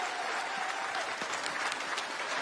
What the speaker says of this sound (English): Round of applause for Beth.